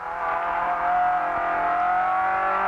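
Ford Escort race car under hard braking into a tight left-hand corner, engine note loud and close and holding steady, with a high whine running through the whole stretch.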